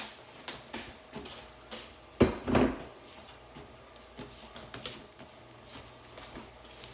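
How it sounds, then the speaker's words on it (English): A knife chops red peppers on a cutting board in a home kitchen while a pot heats nearby, with irregular close taps and a couple of louder knocks, no talking. "I chop these few pieces of peppers up and put them back in there"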